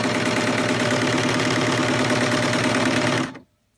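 A home serger running at speed during a stitch test, a loud, close, continuous whirring hum with rapid mechanical chatter that stops abruptly near the end, leaving silence.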